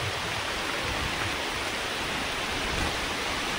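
Heavy rain pours and water roars down the Dabarkhola double waterfall, a dense, loud, unbroken rush filling the whole stretch with no voices.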